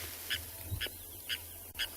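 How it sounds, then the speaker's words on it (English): A grey go-away bird calls at a safari waterhole: four short, evenly spaced nasal honks about half a second apart, moderately distant, over a steady low background hum. "There is a grey go-away bird."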